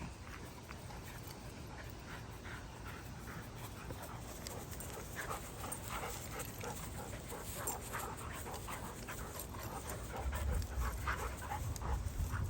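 Steady, rapid panting from dogs close by, including an Aussie Doodle, a continuous breathy rhythm with faint whimpers and shuffling, getting a little louder toward the end.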